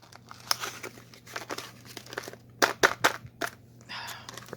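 Molded plastic packaging being wrestled open, a string of sharp, uneven crinkles and crackles in close bursts, some loud snaps, with quiet gaps between.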